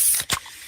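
Fizz of a freshly opened Pepsi, a short hissing spray burst with a brief sharp release in the middle, close and fairly soft, fading into a faint bubbling hiss.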